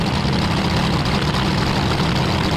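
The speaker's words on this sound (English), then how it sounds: "Hilton flips the throttle on the burnout as Generalo gets the car fired" A top fuel dragster engine running just after being fired at a nighttime drag racing event, a loud, continuous, heavy roar that holds steady and close throughout.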